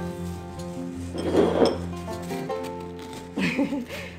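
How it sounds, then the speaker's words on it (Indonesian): Drinking glasses are shifted around on a kitchen counter during preparation of an iced drink, giving a few soft clinks and knocks at moderate volume beneath quiet background music. "kok digeser mulu gelas ya"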